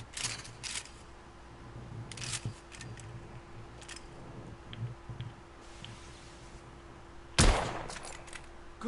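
A rifle with a telescopic sight fires in the video game The Order 1886. It is a single sharp, loud shot near the end after a stretch of quiet ambient clicks and faint rustling.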